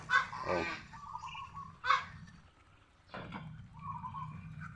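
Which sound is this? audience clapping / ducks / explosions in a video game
ducks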